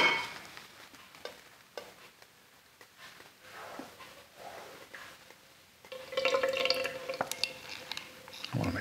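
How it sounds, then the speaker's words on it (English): Primer paint being stirred and poured into a can, with soft scraping and liquid dribbling sounds at close range, growing louder and busier toward the end. "So let's put the primer in the can."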